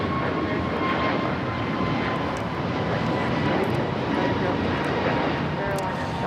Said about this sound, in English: This is American Airlines 513 taking off to Philadelphia on the A321neo